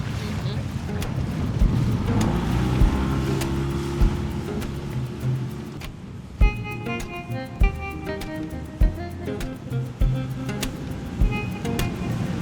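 Outboard motor of a tender dinghy droning across shallow Bahamas water toward a beach, a steady close hum with wind buffeting and occasional knocks from the hull.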